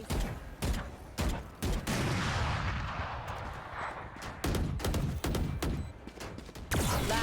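Gunfire in a Valorant match, including an Operator sniper shot: repeated sharp shots and bursts ring out over a dense bed of game action, some isolated cracks and several clustered volleys, loud and close throughout.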